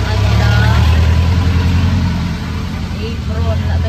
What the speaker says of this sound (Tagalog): Dala-dala tayo ng helmet dahil nakasakay tayo kay Habi sa motor.